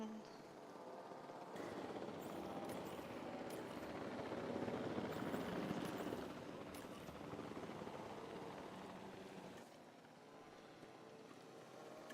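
Helicopter in Jurassic World Evolution 2, used for transporting dinosaurs, gives a steady faint rotor and engine drone that swells and eases over several seconds, with game music and a voice faintly beneath.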